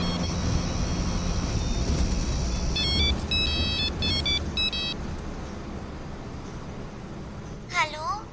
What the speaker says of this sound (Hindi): उसी नंबर से फिर फोन आ रहा है